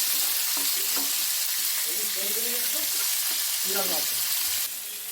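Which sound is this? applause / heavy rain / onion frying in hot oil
onion frying in hot oil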